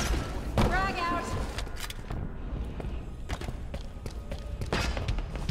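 A frag grenade goes off in Halo Infinite amid a multiplayer firefight, a low thudding boom mixed with gunfire, footsteps and other game sounds.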